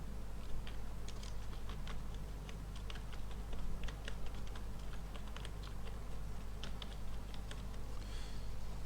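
Computer keyboard keys clicking in an irregular typing rhythm throughout, fairly close and steady, while a journal entry is entered in accounting software, with a low background hum.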